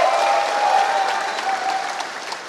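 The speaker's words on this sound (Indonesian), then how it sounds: "Tepuk tangan untuk kita semua." Crowd at a West Java political rally breaks into sustained applause, broad and steady at first and gradually thinning toward the end, with no speech over it.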